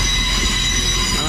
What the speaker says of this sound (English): Here's a Class 185 coming in to terminate here at Scarborough.